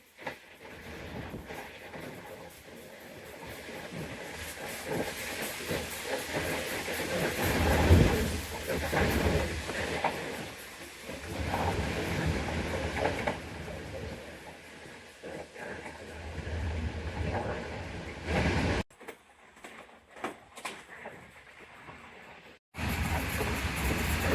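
Karakoram Express passenger train running through Okara station, a steady rumbling roar with wind and rail noise that swells and fades, cutting out briefly near the end before resuming.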